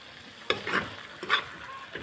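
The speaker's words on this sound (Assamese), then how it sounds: "এই তেলৰ চাউণ্ডটো নোহোৱালৈকে এনেকৈ লৰাই থাকিব।" Hot oil for radish pickle sizzles softly in a pan taken off the gas, with gentle stirring scrapes in two or three short bursts, fairly quiet and close.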